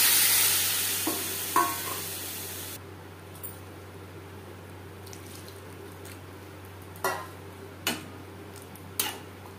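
Hog plums frying in a pan with salt and turmeric, a steady low sizzle with a loud hiss at the start, then scattered scrapes and ticks of stirring spaced across the clip.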